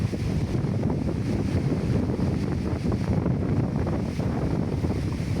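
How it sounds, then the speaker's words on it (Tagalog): Strong wind buffets the microphone in a constant loud roar at an outdoor fiberglass boat-molding site, with no pauses and no voices. "Patigil din tayo sa trabaho gawa ng lakas ng hangin"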